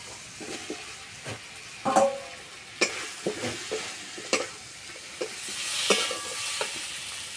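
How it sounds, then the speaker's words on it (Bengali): Fried potatoes are stirred into a pan of cooked spice masala for a fish-roe curry, giving a soft steady sizzle broken by scattered spoon scrapes and clinks against the pan. "এবার ভেজে রাখা আলু দিয়ে দেবো"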